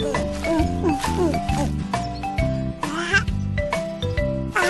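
Cartoonish cat meowing repeatedly in the Baby Panda's Math Adventure game, mixed with bright game music tones and chimes, with a voice briefly audible.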